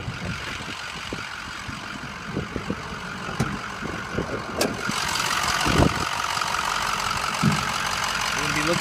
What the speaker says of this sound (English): I'm gonna start this truck, and I'm gonna let you hear it run under the hood